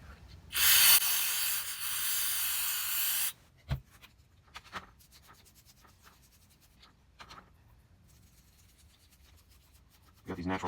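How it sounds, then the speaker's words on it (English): A natural bristle brush scrubs dirt off the carburetor of a Stihl MS 250 chainsaw, heard as a loud sustained rubbing hiss for a couple of seconds and then quieter intermittent scratches and brushing strokes up close. "Got these natural bristle brushes. They do a pretty good job of getting in these little spots and getting everything good and clean."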